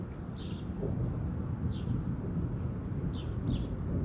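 Birds chirp outdoors in a few short, sparse calls at moderate distance, set against a steady rumble of wind or background noise.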